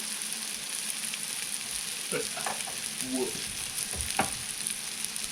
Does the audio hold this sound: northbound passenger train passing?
no